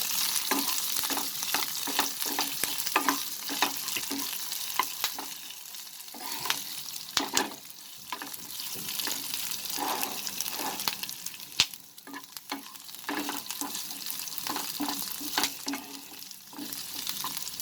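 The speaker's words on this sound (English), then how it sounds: "And here my onion is still getting fried." Onion fries in a pan with a continuous moderate sizzle, broken by a series of stirring scrapes and taps, and no one speaks.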